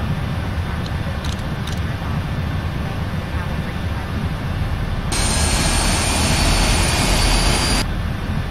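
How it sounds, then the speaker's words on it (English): Dash 8 aircraft engines starting up: a steady, loud engine drone is joined partway through by a sharper rising whine that holds for a few seconds, then drops back to the lower rumble. "All engines clear for startup."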